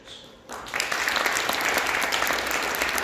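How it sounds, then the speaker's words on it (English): Audience applause follows a congratulatory address by His Excellency Frederick Mitchell at a Korea–Caribbean high-level forum, starting softly and swelling after half a second into steady, dense clapping that continues to the end. "Please give His Excellency Frederick Mitchell another big round of applause."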